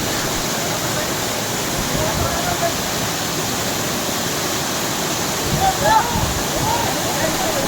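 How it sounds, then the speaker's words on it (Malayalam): Baba waterfall plunges with strong pressure, a dense, unbroken roar of crashing water filling the scene at close range, with faint voices of people nearby partly buried under it. "ഇത് നല്ല പ്രഷറിൽ തന്നെയാണ് ചാടുന്നത്"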